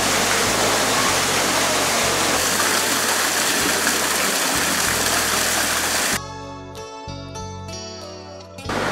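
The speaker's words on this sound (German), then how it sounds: "Und ein kleiner tropischer Wasserfall." A small tropical waterfall pours in a steady, loud, broad rush for about six seconds, then stops abruptly and gives way to much quieter, clearer background sound.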